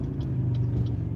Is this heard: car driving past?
yes